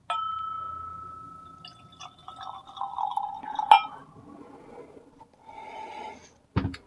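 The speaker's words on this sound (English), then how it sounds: "We're gonna get this poured." Jim Beam Single Barrel 108 Proof bourbon is poured into a glass with a clear, bright pour, a few clinks of glass, and then a trailing trickle.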